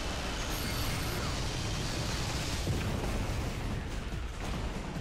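Rocket fire and explosions in the video game Vanquish: a dense, continuous roaring rumble of blasts at steady high loudness throughout, with brief hissing whooshes near the start and no audible talking.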